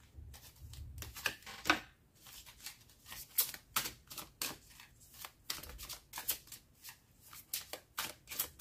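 Tarot cards are handled and drawn at close range, a series of soft papery flicks, slides and taps in an irregular rhythm, quiet and free of speech.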